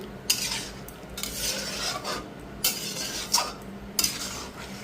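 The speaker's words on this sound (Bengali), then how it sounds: "বেশি নাড়াবো না, হালকা নাড়িয়ে জল দিয়ে দেবো" Loitta fish curry stirred lightly in a pan, a spoon scraping and clinking in several separate bursts over a steady low simmering hiss, close and with no voices.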